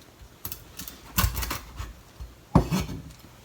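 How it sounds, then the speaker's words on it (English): A kitchen knife chops the tail tips off raw shrimp for tempura, giving a few sharp taps on the board spread over a few seconds. "Then chop off the tips of the shrimp tail."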